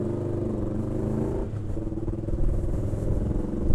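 A Yamaha R15 V2 motorcycle with an aftermarket SC Project exhaust rumbles deeply up close, with throaty exhaust burbles that swell into a louder rev near the end.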